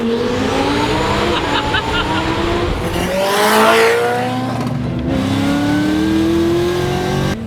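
A 1200-horsepower twin-turbo Mustang GT accelerates hard on the street, its loud, close engine note climbing through rising revs with a brief roaring surge partway through and a faint tire squeal.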